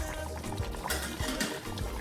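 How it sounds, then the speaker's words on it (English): Water is poured into a pot of yam porridge (asaro) as it cooks, a close splashing trickle with uneven gurgles and small knocks, no voices over it. "I'm going to add just a little bit more water here because I don't want it to burn"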